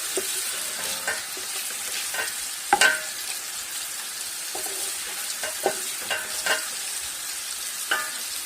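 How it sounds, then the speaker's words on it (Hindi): Onions and chicken frying in hot oil for a white pulao, a steady bright sizzle with frequent scraping and clattering stirs of a spoon through the pan, close and fairly loud. "इसको अच्छी तरह तेल में करते हैं मिक्स, अच्छी तरह फ्राई।"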